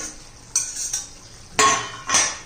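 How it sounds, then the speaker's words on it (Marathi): A metal lid comes off a pan of cooking brinjal with several clinks and scrapes, two louder clatters near the end, no voices. "तर हे पहा आता झाकण काढून बघूया"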